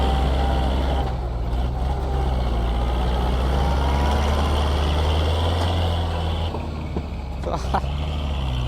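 A heavy truck engine idles with a continuous low diesel rumble, loud and close, while someone talks over it and faint clanks and a brief higher tone cut in near the end.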